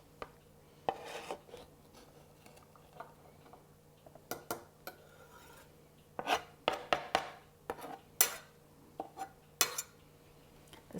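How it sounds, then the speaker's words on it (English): Scattered scrapes, clinks and taps of a knife raking food in a dish with honey mustard sauce, irregular short bursts close by against a faint steady hum, no talking. "I guess I need my knife to rake this in here"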